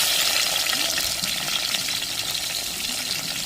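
Sliced onions and curry leaves fry in hot oil with a steady, bright, close sizzle that holds evenly throughout, with no voices.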